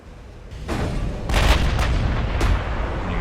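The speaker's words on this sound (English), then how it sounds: "try to get that angle while we get our forward guns firing" Heavy 18-inch battleship forward guns fire in the naval game Ultimate Admiral: Dreadnoughts, loud rolling booms that swell and overlap into a sustained rumble, with a sharper report near the end.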